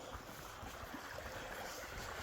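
Water running down a hillside ditch on a farm, a steady broadband rush with a low rumbling churn, continuous and moderately faint, with no one talking.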